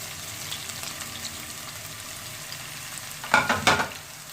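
Soft steady sizzling of garlic and chopped green chillies frying in a pan, then a few louder crackling bursts near the end as food is stirred.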